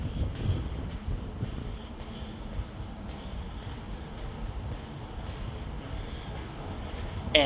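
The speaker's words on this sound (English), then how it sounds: "Might get a little bit windy here. It's one of the windiest parts of the entire ship." Wind blows across the deck 5 jogging track of the Royal Caribbean cruise ship Wonder of the Seas, a low steady rumble and buffeting against the microphone. A louder gust comes at the very end.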